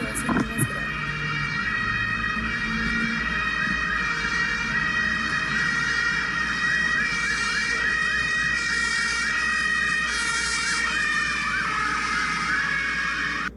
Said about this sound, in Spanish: Uno de los ejemplos más sencillos es el sonido de las ambulancias.